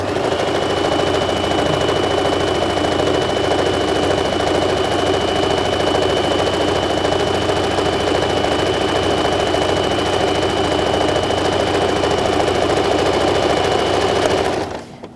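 A home sewing machine runs at a constant fast rate while stitching pajama-bottom fabric around the curved rise, a close, steady mechanical whir with a high whine that stops abruptly at the end.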